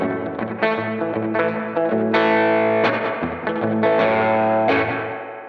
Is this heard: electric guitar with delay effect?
yes